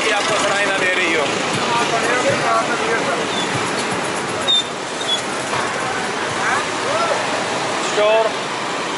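Dense, steady roar of busy evening street traffic in Lahore, Pakistan, with scattered horn beeps, filling the whole scene with constant noise.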